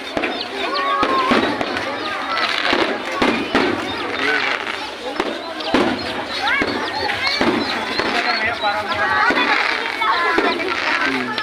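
Fireworks go off in repeated pops and crackles under nearly continuous talking from several people nearby.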